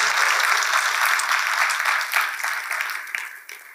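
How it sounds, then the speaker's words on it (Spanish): A church congregation applauds during a Sunday morning service, a burst of many hands clapping together that stays strong for a couple of seconds and then fades out unevenly. "Denle al Señor un aplauso esta mañana para la gloria de Dios."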